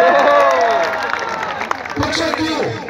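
Audience clapping and cheering at a school welcome ceremony, a dense crowd-wide burst of applause that fills the space, with murmurs and voices mixed through it.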